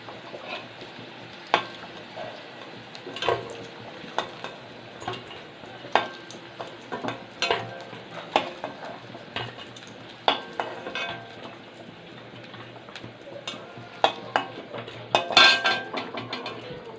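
Pointed gourd fritters with prawn fry in hot oil with a steady sizzle, while a utensil stirs the pan and clinks against its sides in scattered, irregular knocks.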